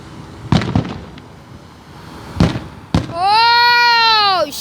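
Fireworks explode close by in three sharp, loud bangs spaced over a few seconds, followed by a long, shrill whistling tone that holds steady and then drops away before fading out.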